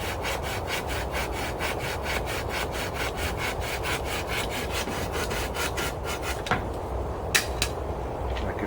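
A saw cuts notches into a forked tree branch at a rainy bushcraft camp, with about two dozen brisk, even back-and-forth strokes close up, then it stops, followed by a few light knocks.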